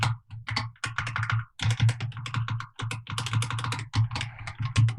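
Rapid typing on a computer keyboard while coding, with quick clustered clicks in uneven bursts broken by brief pauses, close and clear with no talk.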